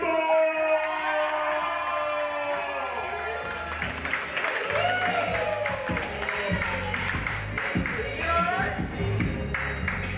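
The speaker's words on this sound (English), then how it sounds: "Please put your hands together, clap it up, and show some love for Valden Campbell!" An audience at an open mic night at JAVA claps and cheers, a dense steady wash of applause lasting throughout, with voices mixed into the crowd noise.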